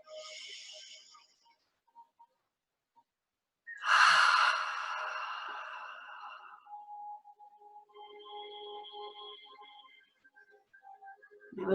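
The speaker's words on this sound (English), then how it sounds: "Take a deep inhale." A single deep, breathy intake and release of air during a guided movement meditation, close and fairly loud, followed by softer tonal background sounds in an otherwise quiet space.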